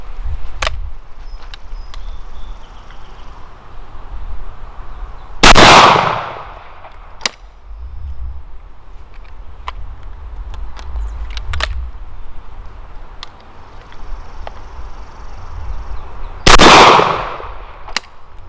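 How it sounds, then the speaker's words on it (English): Two loud, close shotgun blasts roughly eleven seconds apart from a Rossi Tuffy .410 firing Winchester Western number 4 shot at a range, each with a short echoing tail, and faint ticks and quiet ambience in between. "We'll put 2 shots on the same target we put the number 8 on"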